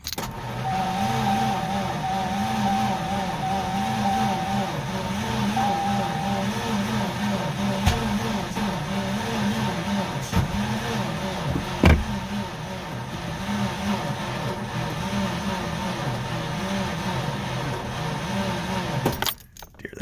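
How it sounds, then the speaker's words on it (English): The V8 engine swapped into a Ford Ranger runs steadily for about twenty seconds with a low, continuous rumble, under faint jangling keys and a few sharp knocks, with no talk. "So let's give her a fire up. She actually runs."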